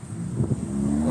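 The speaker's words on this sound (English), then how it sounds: "Little Challenger driving by." A Dodge Challenger passes on a street, a low engine rumble with a rising drone that swells over about a second, fairly near and steady, with wind noise and no talking.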